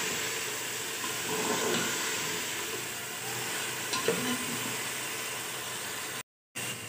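Spinach, chicken and lotus root sizzle in a pan, giving off a continuous steady hiss with faint stirring scrapes, and the sound cuts out briefly near the end.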